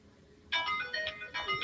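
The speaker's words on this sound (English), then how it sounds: "Customer phone call." A phone ringtone sounds for an incoming customer call, a bright electronic melody that starts abruptly after a quiet moment and repeats in short bursts, loud and close.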